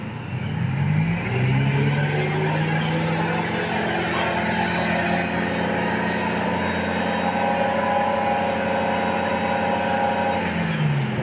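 Engine of a used car revved hard, a loud, steady roar near the mic that climbs and holds for about ten seconds before easing back, with no voices over it.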